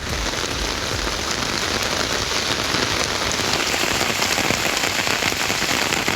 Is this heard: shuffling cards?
no